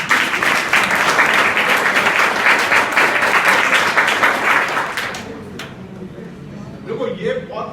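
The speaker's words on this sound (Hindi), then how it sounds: "है तो पापा वाले को भी ताली बजाओ" Students applaud together in a school classroom during an adolescent education program, a loud, dense burst of clapping for about five seconds that fades into quieter scattered noise.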